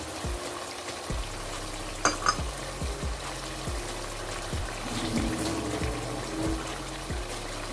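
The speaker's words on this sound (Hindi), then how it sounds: "इसको अच्छे से मिक्स कर लेंगे हम।" Yogurt being stirred into aloo gosht (mutton and potato curry) in a pan, with a steady soft sizzle and repeated scraping strokes of a spoon in an even rhythm, close and moderately quiet, no talking.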